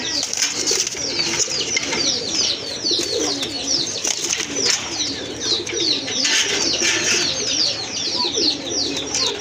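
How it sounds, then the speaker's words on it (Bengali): A breeding pair of pigeons kept for sale coo continuously in low, throaty, overlapping rolls, with sharper chirps and rustling from other birds nearby, close and fairly loud with no talking. "এই যে দেখেন কবুতর জোড়া কিন্তু খুবই সুন্দর"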